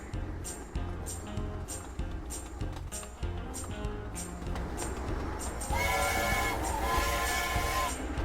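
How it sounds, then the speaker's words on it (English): A diesel train in the Sweet Transit video game rumbles along with a steady engine drone and regular clicking beats, then a long tonal horn sounds near the end, loud and close. "here's the diesel train again"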